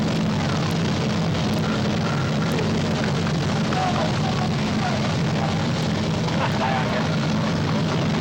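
A group of 1911 Ford Tin Lizzie replica cars with 5 horsepower motors drone steadily at a parade, a loud continuous engine rumble with outdoor crowd noise and faint voices beneath.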